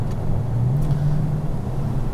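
Dodge Charger with a HEMI engine accelerating, a steady low engine drone heard from inside the car that climbs slightly in pitch, loud and continuous with no speech.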